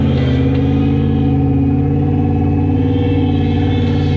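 A mini digger's engine drones steadily at a high, strained pitch while the machine sits stuck in mud, loud and close throughout with no voices.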